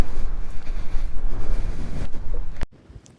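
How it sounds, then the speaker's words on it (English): Strong wind blows at the border of Hungary, Slovakia and Austria, buffeting the microphone with loud, rough, gusty roaring that cuts off abruptly near the end. "Windy at the border"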